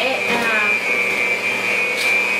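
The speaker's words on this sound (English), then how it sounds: "Now we are still beating our egg whites with the sugar" An electric mixer whirs steadily as it beats egg whites with sugar for a three milk cake batter, a high continuous motor whine running throughout with some background noise.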